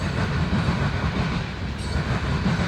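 A CSX train rolls past at Fostoria, a continuous dense rumble of rail cars with a clattering wheel texture, heard at a distance and steady throughout.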